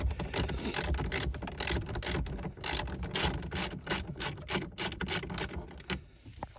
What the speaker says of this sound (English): there's another screw holding your front fascia piece on, so we'll loosen that guy